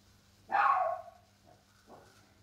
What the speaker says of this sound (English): It's my dog.